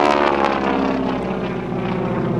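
North American Harvard propeller trainer, a 5,500-pound airplane, flying a four-point hesitation roll at an air show, its loud buzzing radial engine and propeller drone steady and close, pulsing slightly as it passes.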